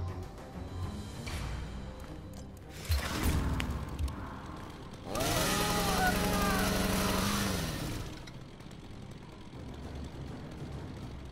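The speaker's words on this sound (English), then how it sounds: "A chainsaw? That's subtle." Leatherface's chainsaw in the fighting game Mortal Kombat X revs in loud bursts, a short roar followed by a longer sustained buzzing whine, with game sounds around it.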